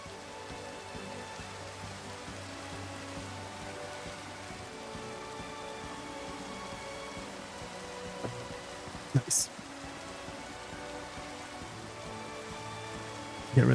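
Steady hiss of rain falling in the video game Minecraft, continuous and even throughout, with a brief louder blip near the end and someone talking over it.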